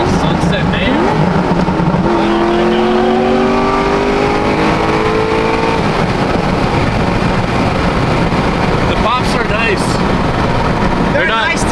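A BMW M4 revs loudly nearby, a rising engine note climbing and holding, with sharp exhaust pops and crackles near the end and a voice talking over the engine.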